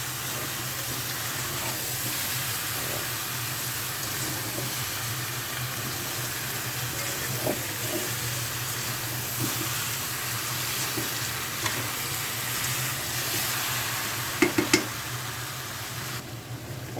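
Mango pickle simmering in sugar syrup in a pan makes a steady, close sizzle and bubbling hiss throughout, with a few brief stirring clinks near the end.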